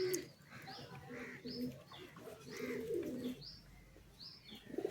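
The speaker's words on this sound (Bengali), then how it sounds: "সব পায়রাই ছাড়া আছে, খাঁচার মধ্যে সেরকমভাবে কাউকে রাখিনি" Pigeons kept loose rather than caged at a loft coo repeatedly in soft, low, rolling phrases, with a few brighter chirps over faint background noise.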